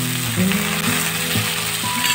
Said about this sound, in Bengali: আর একবার ভালো করে নেড়ে চেড়ে ভেজে নেব।